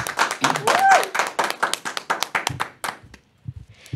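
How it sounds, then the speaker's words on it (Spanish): Loud burst of audience applause at a Catholic talk gathering, dense clapping that fades out over a few seconds, leaving a few scattered claps and faint sounds. "Y la recibimos con un fuerte aplauso."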